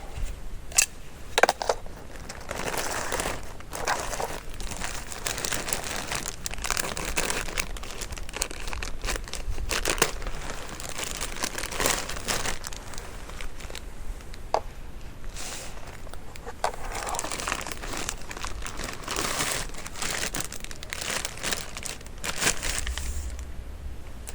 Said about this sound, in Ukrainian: розпаковую я вітрозахист.